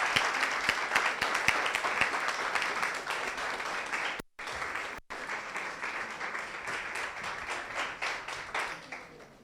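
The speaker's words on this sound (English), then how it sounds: "Please clap for her." Steady applause from a seated summit audience for a speaker, many hands clapping evenly for several seconds, briefly cut out twice before resuming.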